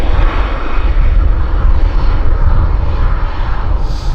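An airplane takes off at Vancouver Airport, its engines roaring loudly and steadily at close range without a break, with no voices heard.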